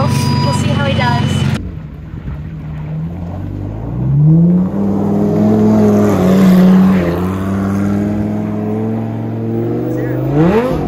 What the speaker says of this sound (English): One of the Cboys is gonna drive the Lambo.